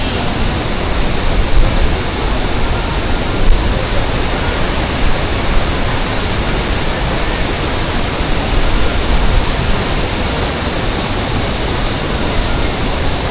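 Rushing, splashing river water at the Vishnuprayag confluence, where the Dhauliganga meets muddy water, forms a loud, dense, unbroken roar that stays steady throughout, close and without pauses.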